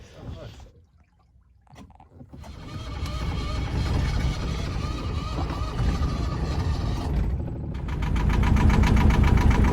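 A seized inboard engine on a 28ft sailboat is cranked and started while still in gear, building into a loud, steady rumble with knocking vibration that strengthens toward the end.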